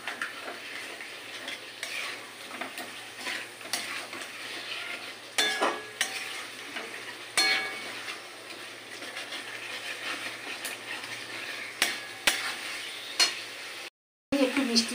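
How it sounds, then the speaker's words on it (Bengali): Chicken with spices stir-fried in a pan for black pepper chicken, a steady sizzle broken by repeated scrapes and clinks of a spatula against the pan, close and moderately loud, with a brief drop to silence near the end. "সমস্ত মশলাগুলোর সাথে আমি একবারে খুব ভালোভাবে একটু কষিয়ে নেবো।"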